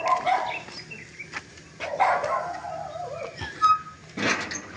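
A dog barks a few times at a moderate distance in a Philippine neighborhood, short sharp barks spread across the span with some background noise and no talk.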